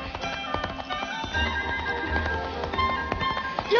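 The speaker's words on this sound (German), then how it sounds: "keine Pferde auf dem Bahnsteig." Horse hooves clip-clop in an uneven stream of hard taps on a firm railway platform, close by, over a low background rumble.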